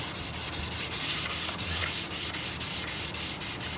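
Steady back-and-forth rasp of sandpaper worked by hand over wood without a sanding block, in even rhythmic strokes about five per second, close and continuous.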